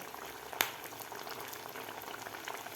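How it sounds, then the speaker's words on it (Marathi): Sabudana vada deep-fry in very hot oil, a quiet bubbling fizz with one sharp click near the start, steady and close. "तेल आपल्याला कडकडीत तेल गरम करायचं आहे म्हणजे असे व्यवस्थित वडे तळले जातात"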